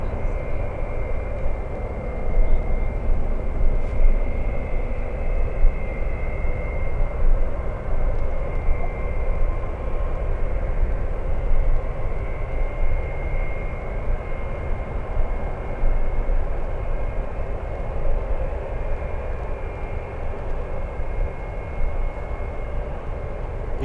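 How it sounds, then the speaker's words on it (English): A Southwest Boeing 737 in Missouri One livery at San Francisco airport rumbles as it moves to take off, a steady broad roar of jet engines with a thin whine on top, loud and constant. "We have the Missouri 1 livery Southwest 737 on the move. I'm expecting it to take off on the ones."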